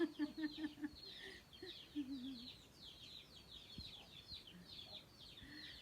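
Chickens and ducks around a rural yard, with faint clucking early on giving way to soft, distant farmyard ambience.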